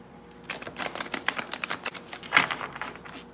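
Tarot cards being shuffled by hand, a run of crisp papery riffles and taps that bunch into quick bursts, close and fairly quiet, with no voices.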